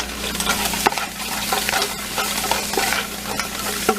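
Mushrooms cooking in butter in a pan, a close, lively sizzle with scattered pops and brief scraping stirs, loud and continuous.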